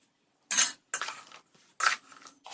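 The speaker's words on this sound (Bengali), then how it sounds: "এবার এতে দিয়ে দেবো ঠান্ডা করে রাখা তেল, অল্প অল্প করে দিয়ে মাখাতে থাকবো আমি" A spoon scrapes and clinks against a bowl as chilli pickle is mixed with spices and cooled oil, in four short, separate bursts with brief silences between them.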